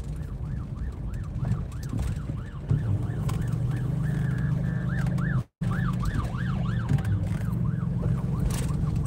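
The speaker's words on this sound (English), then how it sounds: "Ambulance." A wailing siren rises and falls in steady repeated cycles over a constant low rumble, with a brief dropout midway before the wail resumes.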